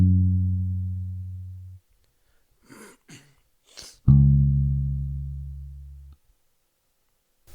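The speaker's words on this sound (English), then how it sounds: "I then decided to add a bass from Modern Bass," Deep synth bass from the Modern J Bass preset of Modern Bass plays two long sustained low notes, separated by a gap with faint breathy noises.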